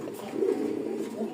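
A native desi Golla pigeon coos softly in a low, throaty burst, then a second fainter coo, close by on a farm, with a soft murmur beneath.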